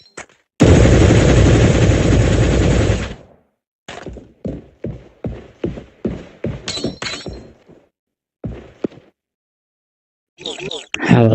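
Enemy gunfire in a video game: a long sustained burst of automatic fire, then a run of sharp single shots at an irregular pace, with short gaps of silence and a final burst.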